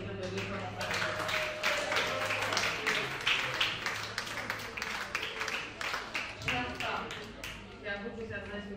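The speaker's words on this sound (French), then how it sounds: "Est-ce que les femmes dans cet auditoire peuvent applaudir les deux femmes en face de nous?" A conference audience claps in a steady patter at a women's investment event, moderately loud, with voices and a low hum underneath.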